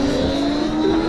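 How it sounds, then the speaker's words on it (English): Modified electric RVA Tuttio motorbike with a 16-kilowatt motor racing a stock WindOne RM7 from a standing start, a steady whining electric drive hum with rising tonal pitch sweeps toward the end, loud and continuous with no talk. "we're gonna run the modified electric RVA Tuttio with 16 kilowatts against this stock WindOne"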